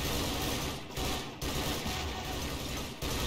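Video-game gunfire in Garry's Mod as US military soldiers fight Star Wars droidekas, a dense, continuous barrage of loud overlapping shots with no pause across the whole stretch.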